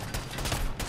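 Gunfire from the Fallout 4 video game plays as a dense, rapid burst of shots, loud and close throughout the brief moment, with no talk over it.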